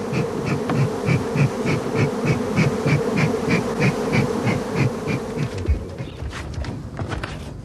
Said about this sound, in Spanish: el paso del enjambre de un trobo antiguo a uno nuevo recién construido